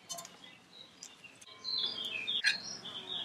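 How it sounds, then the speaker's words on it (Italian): Small birds sing outside a balcony window, with short high chirps and twittering phrases at moderate distance, growing livelier toward the end over quiet room background. "sentivo gli uccellini cantare"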